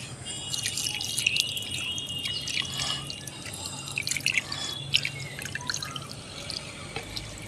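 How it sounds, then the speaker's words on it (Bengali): Water is poured onto a thin layer of sand over vermicompost in a seed pot, giving close, irregular trickling and dripping with small splashes that are quieter than the background. "দিয়ে বালিটা একটু ভিজিয়ে নেব।"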